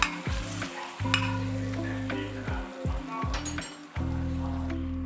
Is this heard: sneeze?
no